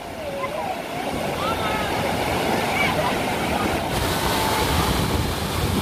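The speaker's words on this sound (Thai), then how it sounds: "ฟังเสียงน้ำฟังเสียงน้ำไหล" Water rushes steadily at Tat Ton waterfall in Chaiyaphum province, Thailand: a loud, continuous wash of falling and flowing water close by, with faint voices now and then beneath it.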